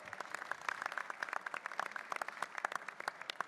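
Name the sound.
audience applause for conference panelists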